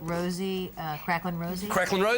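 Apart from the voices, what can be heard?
No everyday noises stand out.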